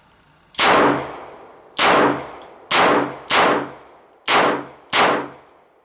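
Six loud, sharp .357 Magnum shots from a Chiappa Rhino 50DS revolver, each with a booming tail, fired at an uneven pace about a second apart, with a faint metallic clink between two of them.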